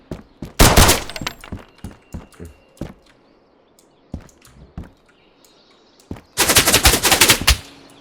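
Automatic rifle fire in the survival shooter Road to Vostok on the Finnish border, with rapid bursts, scattered single shots and dull thuds, loud and close, then a long sustained volley near the end.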